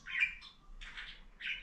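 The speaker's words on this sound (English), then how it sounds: "My bird's going crazy." A pet bird chirps and squawks in three quick bursts, fairly faint indoors, the calls separated by short gaps with no talking over them.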